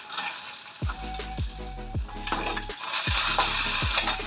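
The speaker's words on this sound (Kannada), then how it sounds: "ಆಯಿಲ್ ಕಾಯ್ದಿದೆ ಈಗ ಬ್ಯಾಡ್ಗೆ ಮೆಣಸಿನ್ಕಾಯಿ ಚೆನ್ನಾಗಿ ಫ್ರೈ ಮಾಡಿ" Byadgi chillies crackle and sizzle in hot oil, with repeated scrapes and clinks of a spoon stirring the pan in a regular rhythm, close and fairly loud, without speech.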